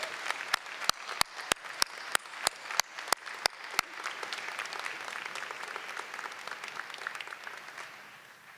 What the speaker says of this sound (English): please join me in giving another round of applause to the class of